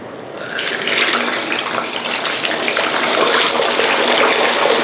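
Tilapia fish fries in hot oil, a loud, steady, dense sizzle that swells up in the first half second and then hisses on continuously with no speech.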